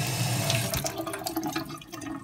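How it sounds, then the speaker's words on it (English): A kitchen sink tap runs water onto a potted orchid, a steady, fairly loud rush and splash that stays constant and close throughout, with no voices. "I'm just going to take my orchid and take it over to the sink."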